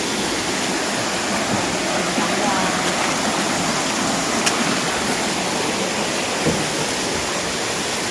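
Huay Kaew waterfall and its stream in Doi Suthep-Pui National Park, Chiang Mai, pour with a dense, steady rushing roar. The forest water noise is close and unbroken throughout.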